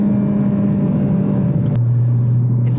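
A Honda Civic Type R FD2 engine drones steadily under load while driving, then drops to a lower, deeper pitch partway through as the revs fall, loud and close throughout.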